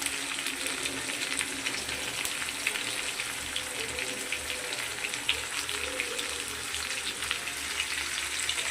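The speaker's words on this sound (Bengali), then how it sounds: "এগুলো সবজিগুলো একটু ভাজা হবে" Vegetables with papaya fry in a pan, giving a steady, close crackling sizzle with a watery hiss that runs unbroken throughout.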